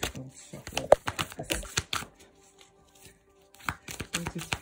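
Tarot cards riffled and shuffled by hand in a quick run of crisp flicks and snaps, a pause, then more shuffling, close and fairly loud with no talking over it.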